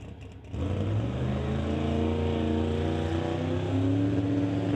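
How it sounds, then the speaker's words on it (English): A turbocharged drag race car at an NHRA Summit ET series event accelerates hard down the strip, its engine note rising steadily as the turbos spool and wind up, loud and continuous with no talk. "You hear the turbos winding up."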